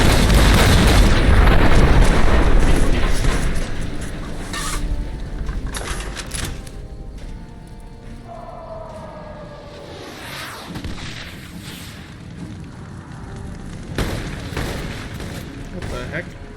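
Heavy booming rocket explosions from a Fallout: New Vegas battle, loudest in the opening seconds, then a rumbling aftermath with scattered further blasts and a voice talking over parts of it.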